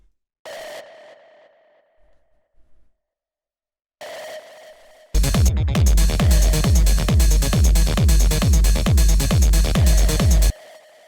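An industrial techno synth tone sounds, cuts off and returns, then a gritty, distorted pulsing pattern with echo applied after the distortion, repeating echoing hits playing loudly for several seconds before stopping abruptly.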